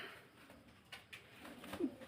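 Pigeons for sale coo softly in low, rounded murmurs amid ambient background noise, with a brief louder burst near the end.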